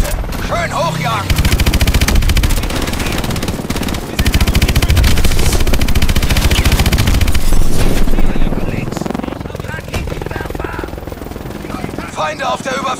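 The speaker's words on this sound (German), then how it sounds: "Feuer frei auf diese Boote." Sustained, loud machine-gun fire pours onto attack boats in Call of Duty: Advanced Warfare, a dense, continuous rattle of rapid shots with heavy booms and blasts that thins slightly toward the end.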